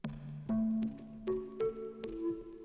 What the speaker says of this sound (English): let's layer a pluck on top of this